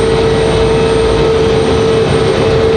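Copa Airlines plane arriving at Raleigh Durham airport from Panama City, a loud, dense, constant engine roar with a steady tonal hum running under it for the whole moment.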